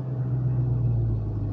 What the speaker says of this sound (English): hit the gas a little bit. And when you rev up, the whole dang car shakes.